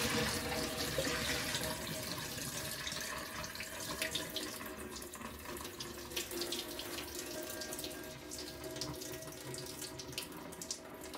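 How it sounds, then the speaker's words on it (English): Hot soaking water drains from chilies into a sink, a steady continuous running and splashing flow that goes on alone throughout. "So all I'm going to do now is I'm going to drain them."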